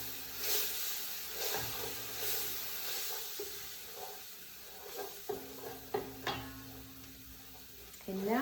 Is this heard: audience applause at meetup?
no